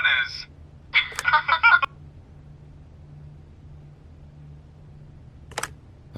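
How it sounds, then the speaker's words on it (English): In The Wolf Among Us video game, a phone line produces a couple of short electronic tones followed by near-silence, then a brief sharp answering machine beep near the end. "leave a message at the beep and we'll get back to you as soon as"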